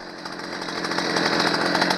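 A Stihl chainsaw engine running steadily, a loud close buzzing two-stroke drone with a rapid rattling pulse, no talking over it.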